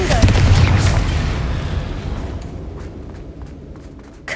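In the Hogwarts Legacy video game, a Confringo spell goes off as a loud, close, booming explosion whose roar slowly fades away over several seconds.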